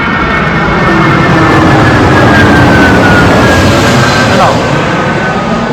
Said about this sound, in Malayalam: എയർപോർട്ട് അടുത്തായതുകൊണ്ട് ഇതുപോലെ ഇടയ്ക്കിടയ്ക്ക് വിമാനങ്ങൾ പോകണത് നമുക്ക് കാണാൻ പറ്റും